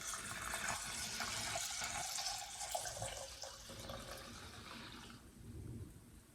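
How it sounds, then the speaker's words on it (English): Water pours steadily into a pot of elderberries, four cups for an elderberry syrup, a continuous splashing rush that stops near the end and leaves a quieter background. "Now to this 1 cup of berries, I'm going to add 4 cups of water."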